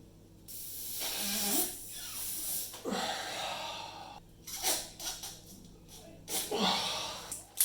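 A blindfolded person blows hard into a stubborn balloon, producing repeated forceful breath bursts and snort-like puffs with quiet pauses between attempts, recorded up close.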